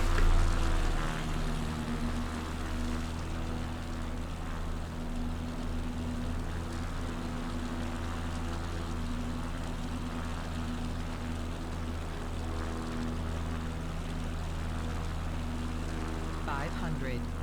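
A tail-dragger propeller plane's engine drones steadily in Microsoft Flight Simulator during an Alaska bush flight, a constant even hum that holds at one level the whole time.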